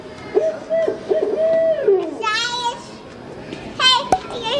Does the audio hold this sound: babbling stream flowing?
no